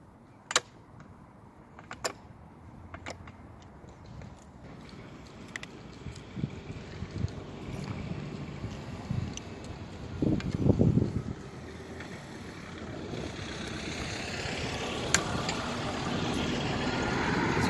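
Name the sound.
Tanaka lawn edger engine running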